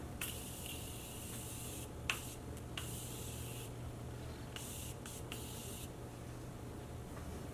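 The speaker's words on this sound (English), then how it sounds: "right before I highlight, I like to spray my face" Setting spray is misted onto a face in several short hissing bursts of varying length, close and fairly loud over a steady low background hum, with no talking.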